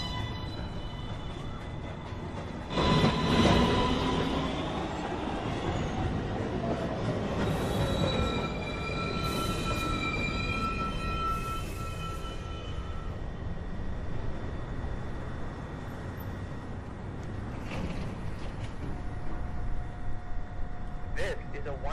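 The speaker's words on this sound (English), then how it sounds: "Local train approaching the station." A New York City subway 1 local train pulls into the 207th Street station, its rumble and screeching wheels rising and fading across the platform while automated announcements play over it.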